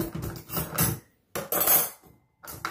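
Clattering dishes and cutlery knocking together in quick bursts as a dishwasher is unloaded, close by, with short pauses between handfuls.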